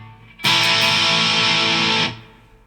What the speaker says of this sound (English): Let me play something that's probably familiar for everybody with distortion and open chords.